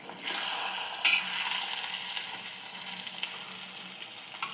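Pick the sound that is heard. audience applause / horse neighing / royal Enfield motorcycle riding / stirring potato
stirring potato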